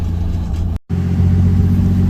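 A Toyota Supra with a noisy transmission and oil leaks, tuned on an ECUMaster EMU Black ECU for pops and bangs, holds a loud, close engine roar that cuts out for an instant, then comes back steady.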